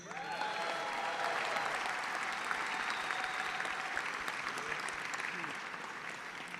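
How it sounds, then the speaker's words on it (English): Sustained applause from a crowd at a charity benefit event, cheering the Cleveland Cavaliers, dense clapping throughout, with scattered voices and cheers mixed in. "How about a round of applause for the Cavaliers?"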